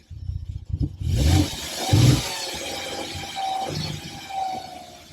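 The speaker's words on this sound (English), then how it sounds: "while he's trying to start the engine" Engine starting up: a few quiet clunks and cranking sounds, then a sudden steady engine roar that rises and settles into a continuous running drone.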